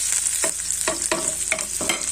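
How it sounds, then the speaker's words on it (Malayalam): Oil sizzles in a pan with fenugreek seeds and dried red chilies frying while a spoon scrapes and stirs in quick, repeated strokes, close and clear with no talking. "ഉലുവ പിന്നെ വറ്റൽമുളക് ഇതെല്ലാം കൂടെ ഇതിനകത്തോട്ട് വറുത്തെടുക്കാം"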